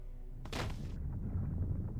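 A booming blast from an explosion in Star Wars: Knights of the Old Republic II lands suddenly and is followed by a low rumbling tail under ambient game sound.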